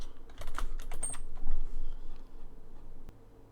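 Fast typing on a computer keyboard while coding a Ren'py game script: a close, crisp run of key clicks for about three seconds, with a few louder strokes, then a pause and a single late tap, with no talk.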